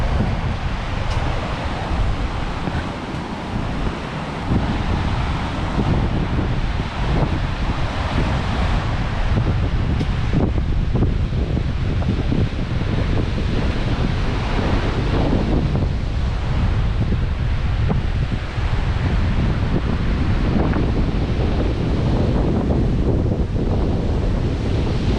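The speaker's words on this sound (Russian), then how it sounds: "покажу вам еще сверху море" Sea waves break on a windy beach with steady loud surf, while heavy wind buffets the microphone throughout.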